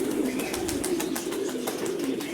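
Pigeons in Mykolaiv coo in soft, low, throaty repeated calls, close by over a steady background rustle and faint bird chatter, with no talking.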